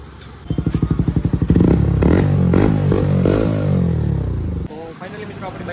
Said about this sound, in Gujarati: હવે અવાજ તમને સંભળાવું ડીબી કિલર વગર